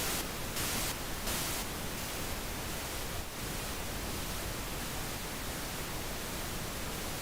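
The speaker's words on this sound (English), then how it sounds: "So mixing noise against pink noise" A steady, dense wash of pink noise from a synth layer in FL Studio hisses evenly throughout, with a few faint pulsing bursts near the start.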